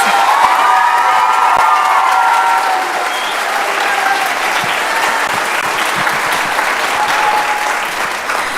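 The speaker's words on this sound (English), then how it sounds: "So a round of applause for the Madrigals." At a high school spring choir concert, an audience gives loud, sustained applause with cheering and whoops for the madrigal choir, dense clapping filling the room from start to finish.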